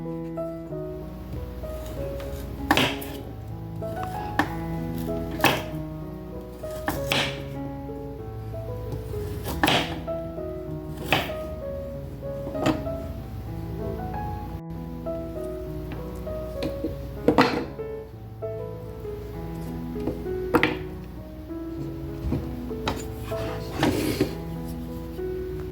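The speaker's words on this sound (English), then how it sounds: "Now we're going to cut up our turmeric to put in our blender." A knife chops fresh turmeric root on a cutting board in a home kitchen, with sharp irregular knocks spaced every second or two over a soft background hum, close and fairly quiet, with no talking.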